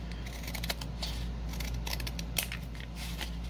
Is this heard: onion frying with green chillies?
no